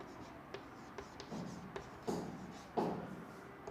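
Writing strokes on a board or paper during a physics lesson on electric flux, soft scratchy scribbles with a few sharper taps, quiet and close, no voice over them.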